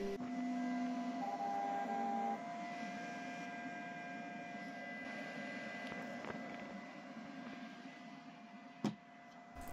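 A Creality K1C 3D printer hums steadily through its calibration, with constant tonal whines and a soft mechanical drone, close and quiet, ending in a brief clunk near the end.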